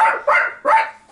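Dog barking: three sharp, close barks in quick succession, loud and clear with no other sound around them.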